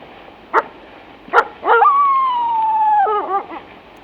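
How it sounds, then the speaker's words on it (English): A female wolf gives a bark howl after being chased by a rival pack: two sharp barks, then a long, steady, wavering howl that breaks off and trails into short yips, carried over faint background hiss. "a female wolf uses what's called a bark howl after she was chased and nearly killed by a rival pack"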